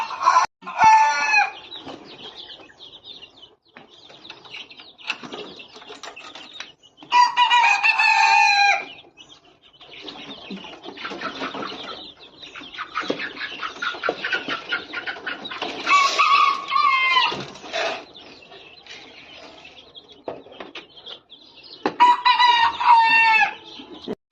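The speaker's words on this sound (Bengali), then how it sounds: "আর এদিকে আমার মুরগি" Backyard chickens cluck and roosters crow at early morning, with several long loud crows spaced apart and busy clucking between them.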